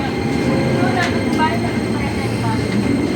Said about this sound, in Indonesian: Nah, keretanya sudah tiba teman-teman.